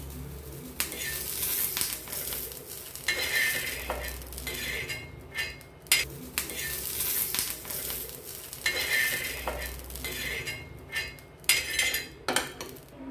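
Roasted chillies are lifted off a hot tava griddle onto a plate, with metal spatula scrapes and clinks over a faint sizzle, several sharp taps near the end, no talking.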